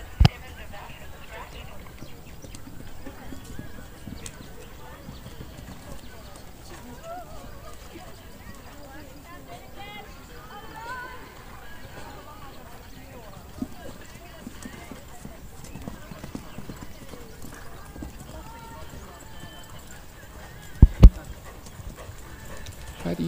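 Hooves clip-clop faintly as a show jumping horse ridden in a competition class moves around the arena, under an ongoing commentary voice, with a dog barking once or twice in the background.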